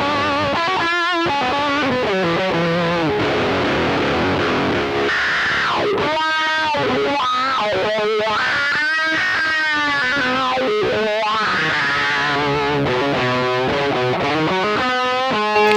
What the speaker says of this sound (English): Let's add some distortion on top of the overdrive.